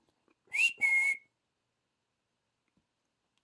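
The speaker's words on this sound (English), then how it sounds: "Smokey, can you whistle a song for Mommy?" An African grey parrot gives two short, clear rising whistles close by, then falls silent in a quiet room.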